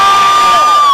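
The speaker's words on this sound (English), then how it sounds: "You could just hear the crowd in the background." Crowd at a state playoff high school baseball game, Millbrook versus MCHS, cheering and whooping loudly in a brief burst that fills the whole moment.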